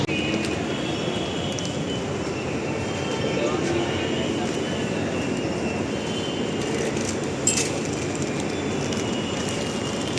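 A Mumbai Metro train at Sakinaka station makes a continuous rumbling roar with a low, steady hum, heard up close, with a faint clank partway through.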